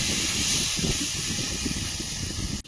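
Bottle gourd pieces frying in oil over a high flame give a steady, close sizzling hiss that holds even throughout, then cuts off sharply near the end.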